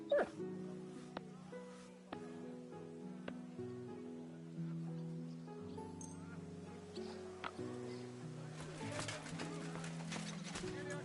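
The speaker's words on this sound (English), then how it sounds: "Aye, aye, you silly doggy." A dog in the video game Kingdom Come Deliverance 2 whimpers and yips in short, high cries with a few barks, close and fairly quiet, over soft musical tones.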